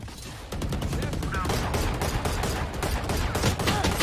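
Continuous rapid gunfire in the video game Valorant crackles loud and dense over a game soundscape for several seconds.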